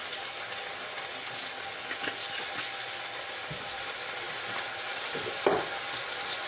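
Chicken for a stir fry sizzles steadily in a hot pan, a dense close frying hiss with occasional stirring scrapes and one sharper clatter.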